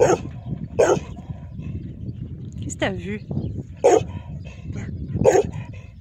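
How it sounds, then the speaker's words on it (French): A dog gives several sharp barks spaced a second or so apart, with a brief whimper between them, while a person talks over it. "Qu'est-ce que t'as aboyé?"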